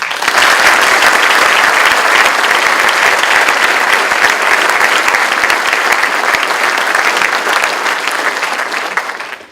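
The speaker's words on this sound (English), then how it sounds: "How about a round of applause for them?" Loud, dense applause from a crowd honoring chief master sergeants at a presentation, continuous and close for the full duration, fading slightly toward the end.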